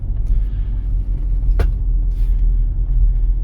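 A car drives along a street on a driving test route, steady low engine and road rumble throughout with one brief sharp click or transient partway through, no talking.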